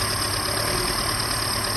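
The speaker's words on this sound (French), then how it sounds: "Le moteur qui tourne rond" Steady, even idle of a 1969 Fiat 124 Sport Coupé engine with carburettors, a continuous close mechanical drone and hum that holds constant throughout with no voices.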